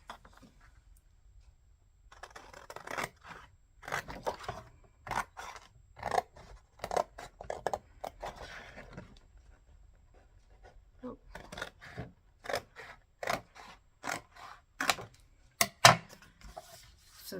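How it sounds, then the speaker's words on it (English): Scissors snip through card stock while a shape is cut out for a handmade card, a series of close, crisp cuts in irregular bursts with short pauses between, loud against a quiet room. "And I'm going to use my scissors to cut that out."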